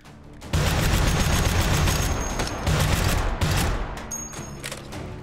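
Rapid gunfire from a firearm in the VR game Hot Dogs, Horseshoes & Hand Grenades, a loud sustained burst of shots that starts abruptly and rattles on for several seconds with slight dips between volleys.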